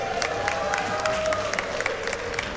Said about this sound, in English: Just clap for the speed.